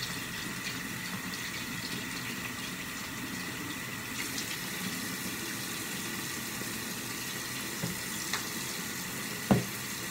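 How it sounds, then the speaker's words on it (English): Water runs steadily from a tap into a sink during a morning skincare rinse of a brush and face, a constant hissing splash with a couple of faint clinks near the end. "rinse off the brush"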